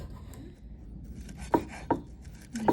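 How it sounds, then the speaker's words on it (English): A knife chopping mint and rosemary leaves on a board, three distinct close thuds after a quiet start, spaced unevenly. "Just chop this a little bit, because what I want to do is I want to release all of these oils that are in the leaves"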